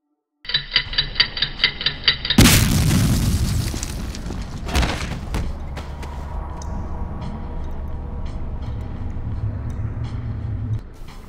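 A rigged platform blows up with a sudden loud boom after a run of rhythmic mechanical ticks, then a long rumbling, crackling aftermath with scattered debris clatter and a steady low drone, no voices.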